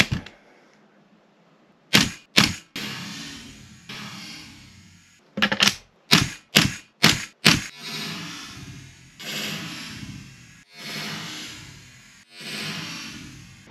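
Tokyo Marui MWS airsoft rifle fitted with an upgraded magazine firing sharp cracking shots, a pair and then a rapid burst of five, each followed by rustling handling noise, close and loud with no talk.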